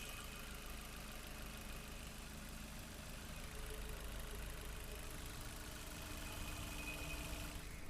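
A 2019 Maruti Swift Dzire ZXi petrol engine idles with a steady, smooth, quiet hum, close and continuous with no talking.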